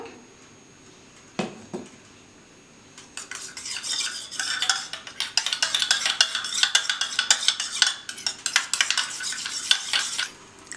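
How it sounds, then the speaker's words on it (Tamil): Kasturi turmeric is stirred briskly into rice porridge in a bowl for a face pack, making rapid wet scraping and clinking of a spoon that starts after a couple of isolated knocks and continues until near the end. "நம்ம எடுத்து வச்சுருக்க அரிசி கஞ்சியில் கஸ்தூரி மஞ்சள் ஆட் பண்ணி நல்லா மிக்ஸ் பண்ணிக்கணும்"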